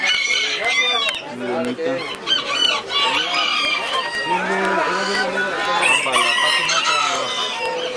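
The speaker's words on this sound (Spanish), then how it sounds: "otra gallina polaca que tienen aquí también" Polish and silkie chickens at a poultry expo in Xochimilco cluck and squawk densely and close by, a busy chorus of overlapping calls with someone talking over them.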